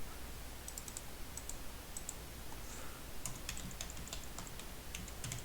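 Quick light keystrokes on a computer keyboard as a file name is typed, scattered soft clicks in short bursts over a steady quiet room hiss.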